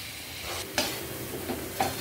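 Khoya (mawa) cooks in a pan for gujiya filling, giving a close, continuous sizzle with a few distinct scraping stirs of the spoon against the pan; no one talks.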